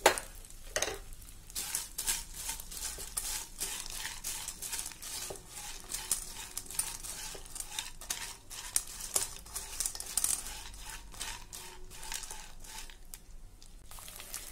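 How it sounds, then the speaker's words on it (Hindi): Gond (edible gum) fries in ghee in a heavy-bottom pan over medium flame, giving a steady close sizzle with crackling pops and scraping stirs recurring throughout. "गोंद को इसमें फ्राई कर लेंगे।"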